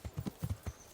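A fast horse gallops in the video game Kingdom Come: Deliverance, its hooves striking in quick paired clip-clop beats, about six close, distinct thuds within a second, with no talking.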